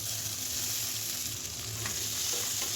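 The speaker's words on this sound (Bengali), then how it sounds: "মশলার সাথে বীজগুলো খুব ভালো করে কষিয়ে নিয়ে একটু ঢাকা দিয়ে রাখবো।" Hill seeds fry with spices in a pan, giving a steady broadband sizzle with soft scraping from stirring throughout, close and continuous with no voices.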